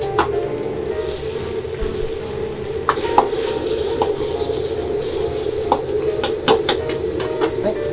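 Xiang la jiang chili paste is stir-fried in a wok, with a continuous loud sizzle and frying hiss close up, punctuated by scraping stirs and small sharp pops throughout.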